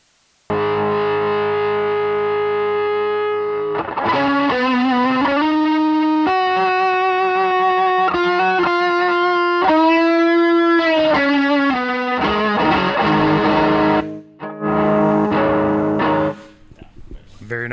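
An electric guitar runs through a distortion pedal on its turbo setting and sustains chords and bending notes for a long, loud stretch. The tone is thick and saturated, with a brief drop near the end.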